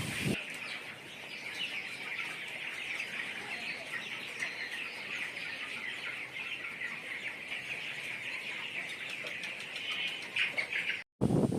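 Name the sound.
broiler chickens on a poultry farm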